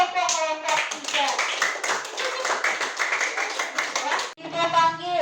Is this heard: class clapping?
yes